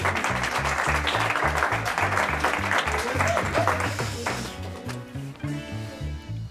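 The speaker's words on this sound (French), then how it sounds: "On l'applaudit très fort." A French television quiz show's studio audience applauds loudly for a departing contestant, steady broadband clapping over background music that fades slightly toward the end.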